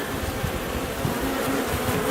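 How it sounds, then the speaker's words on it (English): Bees in an opened beehive hum in a dense, steady drone, close and continuous with no pauses and no voices. "there's a fair number of bees there"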